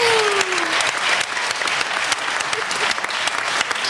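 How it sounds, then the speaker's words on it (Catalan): A studio audience at a Catalan quiz show applauds a contestant with dense, steady clapping throughout, a brief voice heard at the start. "Rebeu amb un fort aplaudiment a la Carmina Marcinyac."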